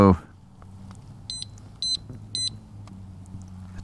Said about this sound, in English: If somebody starts tampering with it, then it'll go off, make an alarm.